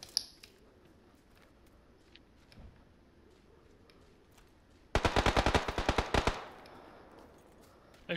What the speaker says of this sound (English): He's shooting to your left, careful.